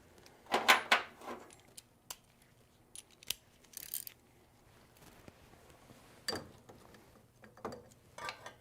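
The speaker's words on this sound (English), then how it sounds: "So now I can tighten that locking bolt on the bottom." Ratchet with an extension tightening the lower locking bolt on the belt tensioner of a Jeep Wrangler during a thermostat repair, heard as faint, scattered metallic clicks and clanks close by with quiet gaps between them.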